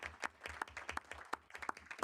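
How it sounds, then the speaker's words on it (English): A room of people at a university board of trustees meeting claps in a brief, dense burst of applause, fairly faint and steady throughout. "And I think that deserves a round of applause."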